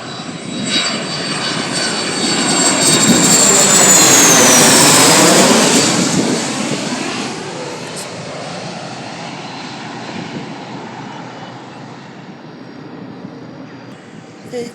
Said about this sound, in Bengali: আরেকটা প্রশিক্ষণ বিমান আসতেছে